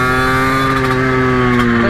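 A motorcycle held in first gear revs high and steady, a loud close engine whine with strong harmonic tones that stays level throughout.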